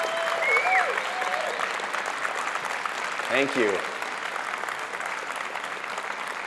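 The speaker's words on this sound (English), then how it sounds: "please stand up and let's give them a round of applause" Audience applause at a Skepticon 5 conference talk, a sustained wash of clapping across the whole stretch, with a few voices calling out over it and a brief spoken thanks partway through.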